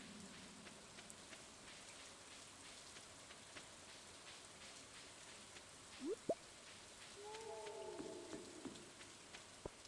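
Rain falls in the Stardew Valley video game as a soft, steady patter with scattered drips, faint and even throughout, with a few short game tones near the end.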